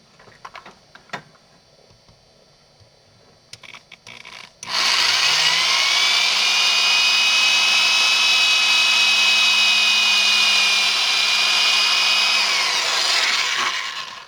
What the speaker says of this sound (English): I'm going to drill pilot holes for the screws, for the mounting screws